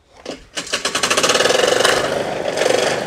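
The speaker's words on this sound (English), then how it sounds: "for you who haven't heard this lawnmower," A lawnmower engine with rod knock starts up and runs, a rapid rhythmic knocking clatter that builds after a brief start and holds steady, loud and close, with no talking.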